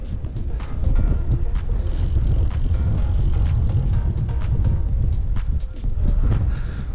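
Strong wind buffets the microphone of a bicycle out in hilly open country, a loud continuous rumble and roar with repeated sharp ticks over the top, heavy and close throughout.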